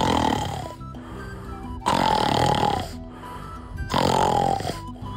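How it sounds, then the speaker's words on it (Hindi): Animated cartoon lion snoring: three loud, rasping snore breaths in a steady rhythm, each separated by a quieter intake, close and alone with no speech. "शेर खर्राटे ले रहा है।"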